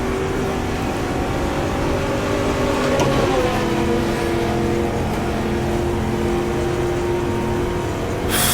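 A Ford racer from the 1966 Daytona 24 Hours in GTR2 drones steadily through the whole stretch, its loud engine note holding high with a brief shift around the middle while the car slides through the turns.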